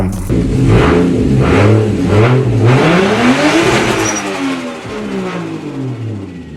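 A Nissan RB26DETT inline-six engine revs loudly and close up, its pitch rising and falling through several sweeping blips over about six seconds, with no talk.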